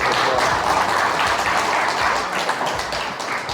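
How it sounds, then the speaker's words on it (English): Audience applause after introductions at a community gathering, a dense, steady wash of many hands clapping that carries on for several seconds, loud and close, tapering slightly at the end. "Please give them all the applause."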